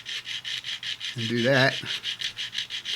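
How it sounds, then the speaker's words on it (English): A coarse sanding stick rasps rhythmically back and forth on a part of a 1968 Camaro, with steady regular strokes close up and a brief spoken remark partway through. "I got this sanding stick. It's really coarse."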